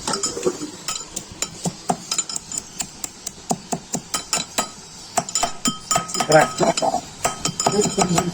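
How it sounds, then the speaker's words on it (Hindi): Garlic cloves crushed and ground with a pestle in a hard bowl while making soft food for Java finches, giving sharp, regular metallic knocks and clinks at a steady pounding rhythm, fairly close, with faint scraping between strikes. "तो ये कुछ लहसुन की ये पोथियां जो है ये हम इसमें डालेंगे और इसको पीसेंगे।"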